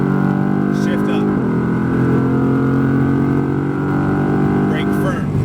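A Mercedes AMG GTR pulls hard on a race track, its engine roaring loud and steady with rising pitch and brief dips at gear shifts, an instructor talking over it.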